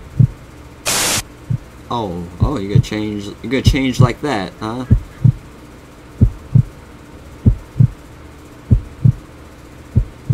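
Heartbeat in the video game Luna Game 3D, deep regular thumps pulsing steadily throughout, partly under someone talking and a brief burst of static near the start.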